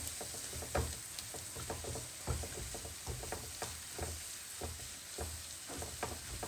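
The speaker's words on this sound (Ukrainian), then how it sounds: "Тепер це все ми перемішуємо." Soft sizzling from a pan of sauce thickened with flour, with repeated scraping taps of a spoon stirring, roughly once a second, close by and fairly quiet.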